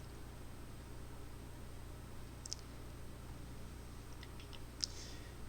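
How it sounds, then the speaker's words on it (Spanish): A computer mouse clicks twice, faint and brief, against a low steady background hiss with no talking. "En la parte izquierda vamos a dar clic en contenido."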